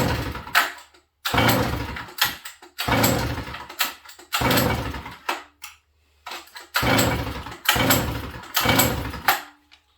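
A 100cc Sachs Dolmar 153 chainsaw engine is being pulled over and sputters in repeated short bursts, catching briefly several times with gaps between attempts, loud and close.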